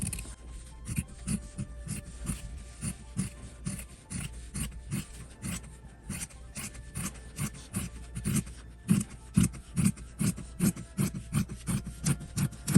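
Scissors cut through fabric around a sewn seam with interfacing, giving a steady run of short, crisp snips and rasping blade strokes close by with no talking.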